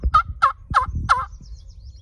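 A hand-held wingbone turkey call, cupped in the fingers, imitates a hen turkey yelping: four sharp, evenly spaced yelps close to the listener, with light handling noise underneath.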